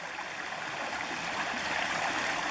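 Creek water flowing steadily at a lake outlet near Sitka, a continuous close rushing and gurgling stream with no voices.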